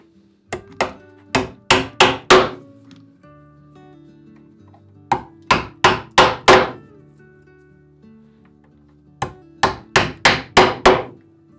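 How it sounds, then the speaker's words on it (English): Someone hammers 1-inch ring nails into wooden boat floorboards, striking three quick bursts of five or six sharp, close blows each, with quiet pauses and faint handling sounds between them. "I'm assembling these with 1-inch ring nails."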